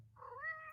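A pet cat gives a single short rising-and-falling meow, close and fairly soft, alone without talk.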